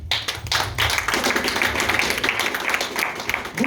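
Church congregation applauding during a sermon: dense, steady clapping from many hands fills the room throughout, fairly close and loud, with no speech over it.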